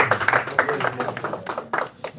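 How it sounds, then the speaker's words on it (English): A small group claps for a winner at a forex trading gathering, giving quick, uneven hand claps, fairly faint, with a voice talking over them. "let's clap for Taban"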